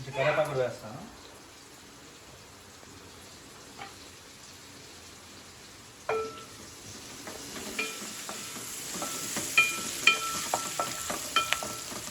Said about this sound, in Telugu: చేప చూసారా ఎంత బాగా మరుగుతుందో